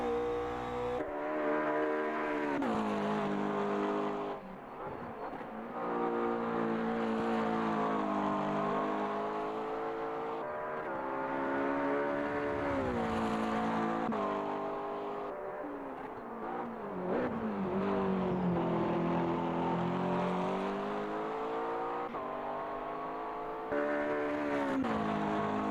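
A McLaren GT3 Cup race car lapping Oulton Park, its engine droning continuously with rising and falling revs through gear changes and brief lifts, heard steadily from close, as if on board, with no talk.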